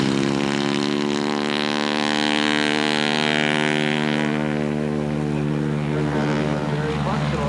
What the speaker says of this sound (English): Rich taking off in the Bumblebee.